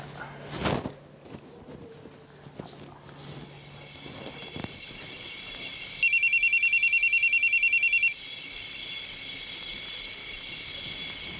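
A phone call rings out in a Kannada TV serial: repeated electronic ringing pulses grow steadier and louder, with a faint background chirp of crickets and a brief knock near the start.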